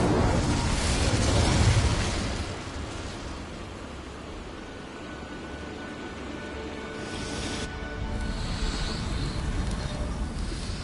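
Spell explosions from Bombarda and Incendio in the video game Hogwarts Legacy, a loud burst at the start that settles into a sustained roaring, hissing wash of noise, followed by a later swell.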